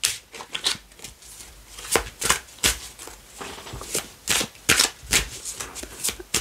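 Tarot and oracle cards are shuffled and handled by hand, producing a quick series of crisp, papery riffs and flicks up close, with no talking over them.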